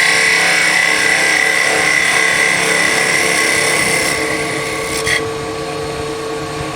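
A woodturning lathe whirs up to a steady, loud motor hum with a high whine, running continuously with a brief clunk near the end.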